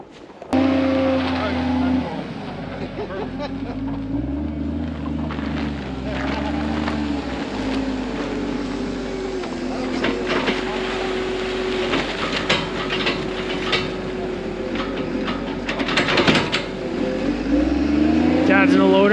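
A wheel loader on a farm works by a large pile of chopped fall rye, its diesel engine droning steadily nearby with shifting revs and a rumbling low tone, while a person talks over it.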